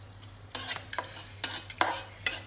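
Bombay rava semolina fries in a pan for pumpkin halwa, with several sharp, close scraping stirs of a spoon against the pan over a quiet sizzle.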